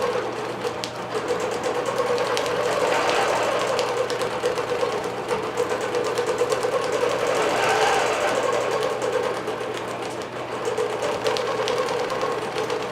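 A computerized Q24 longarm quilting machine stitches a quilt with polysheen thread, pink on top and near-white below, in a steady, continuous, fast-pulsing mechanical hum that runs close and unbroken throughout.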